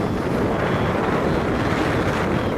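Strong wind gusts of around 60 to 70 miles an hour on a high mountain pass in Mongolia roar and buffet the microphone as a steady, loud, close rumble with no voices.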